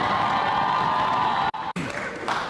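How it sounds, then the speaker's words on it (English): Applause and cheering from a crowd at the Yale Union for Hasan, a loud, dense wash of clapping and whoops that cuts out briefly twice before resuming more raggedly. "Hasan got some serious applause here at the"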